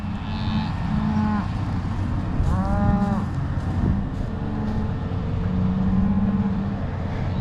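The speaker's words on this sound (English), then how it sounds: "there's the two bulls right here" Two bulls in a farm pasture low out in several drawn-out moos, close and clear, over a steady outdoor rumble that sounds like distant traffic.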